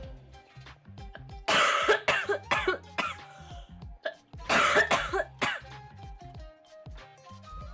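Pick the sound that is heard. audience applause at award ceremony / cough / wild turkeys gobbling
cough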